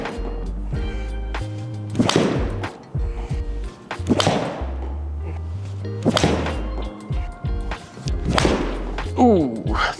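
Several crisp impacts of a golf club striking the ball, one a thin strike, spaced a couple of seconds apart on a practice range with a Trackman, amid background noise.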